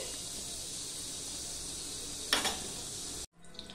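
A dry red chilli and five-spice seeds drop into hot oil for dal, giving a steady low sizzle with a brief louder crackling burst before a sudden cut.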